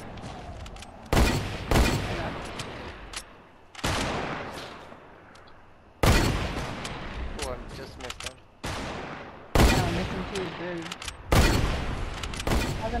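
Gunfire in a Fortnite Duos match, several loud close bursts of rapid shots separated by brief gaps with decaying echoes, mixed with the players' low talk.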